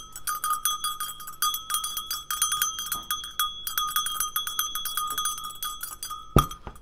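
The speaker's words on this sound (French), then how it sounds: "Il faut savoir que les cloches, ça enlève aussi les mauvaises ondes, hein, les mauvaises énergies." Small bells ring close by in quick, bright repeated strikes that shimmer and sustain, ending with one sharper, louder clang near the close; nobody speaks.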